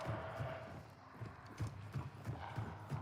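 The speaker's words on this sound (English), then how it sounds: "I can hear the zombies' footsteps and mine perfectly fine." Zombie footsteps in the video game Hunt: Showdown: a steady series of muffled, low thudding steps in an even walking rhythm, moderately close, under a wash of ambient game noise.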